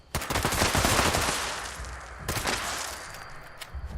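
Gunfire in Fallout 76: a rapid, loud burst of automatic shots up close, then a single sharp crack followed by a few scattered fainter shots.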